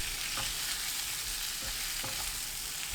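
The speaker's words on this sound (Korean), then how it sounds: "달구지 않은 팬에 올리브유 2큰술, 양파, 고운 소금 1/3 큰술 넣고 센 불로 볶습니다" Sliced onion sizzles in olive oil with fine salt on high heat, a constant bright hiss punctuated by a few soft thuds and scrapes of stirring.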